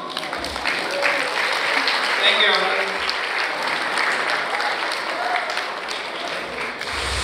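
Wedding reception guests break into steady, loud applause filling the room, with a voice briefly speaking over the clapping near the end.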